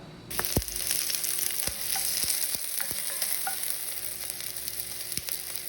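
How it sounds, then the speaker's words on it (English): Onions, pimentos, garlic and ginger sauteing in hot avocado oil, with a steady close sizzle and a few sharp spoon taps against the pot. "once it's nice and heated, I'm going to saute the onions, pimentos, garlic, and the ginger"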